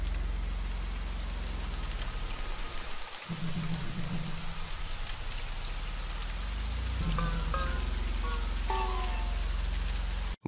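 Steady rain effect depicting radioactive rainfall after nuclear explosions in the sky, a dense continuous downpour hiss throughout, joined near the end by brief high chirping tones.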